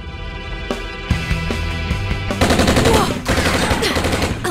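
Automatic gunfire during a staged live fire exercise, with steady repeating shots building into a louder, denser volley partway through, close and prominent over a tonal backing.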